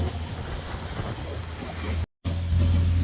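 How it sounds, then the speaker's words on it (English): Sailboat motor sailing toward Clarence Town in the Bahamas, its engine a steady low drone beneath wind and passing water, cut by one brief dropout before resuming, slightly louder. "but we're still running the engine."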